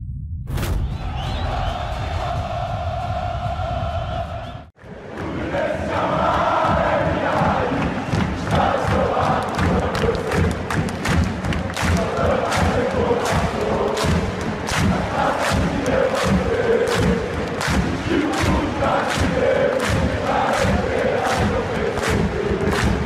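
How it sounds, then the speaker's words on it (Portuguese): Fluminense football supporters chant loudly in a Rio de Janeiro stadium, a massed crowd singing with rhythmic thumps, continuous and close after a brief cut near five seconds. "aprender os cantos que transformaram a atmosfera do Rio de Janeiro em um verdadeiro inferno"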